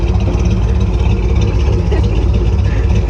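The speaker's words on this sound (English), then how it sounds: "Sounds so much better now that the exhaust leak's fixed." A Ford Bronco engine idles steadily with a freshly repaired exhaust, a constant low rumble filling the cabin throughout, with a faint voice in the background.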